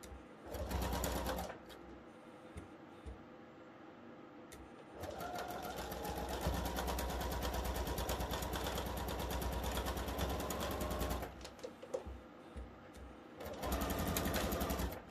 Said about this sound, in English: line them up, and sew just to the right of my drawn line